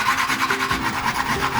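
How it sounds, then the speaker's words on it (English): Fresh ginger is grated with its skin on for a Japanese summer somen noodle dish. It makes a quick run of close, rhythmic rasping strokes, about a dozen scrapes in fast succession. "I'm going to grate this ginger"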